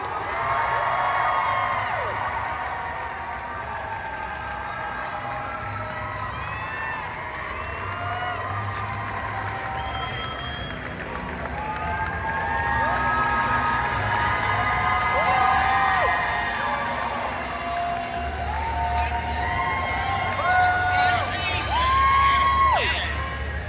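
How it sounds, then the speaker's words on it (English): A convention crowd at an anime event in Las Vegas claps, cheers and whoops as a cast panel comes on stage, loud and sustained throughout with rising bursts of shouting. "Can you give a round of applause?"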